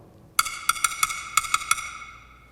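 A woodblock tapped about nine times in a quick, lively rhythm, each hollow knock short and clear, with nothing else playing.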